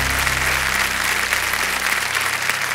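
Studio audience applause on the Kaun Banega Crorepati quiz show, a dense, steady wash of many hands clapping at close, even loudness throughout.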